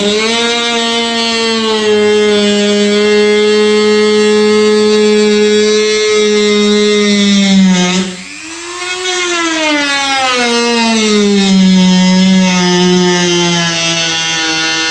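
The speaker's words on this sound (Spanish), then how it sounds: "con el Dremel y algún disquito de corte, vamos a proceder a cortarlo" A Dremel rotary tool with a small cutting disc slices into a plastic kayak hull, a loud steady high-pitched whine that dips briefly in pitch under load midway, then recovers.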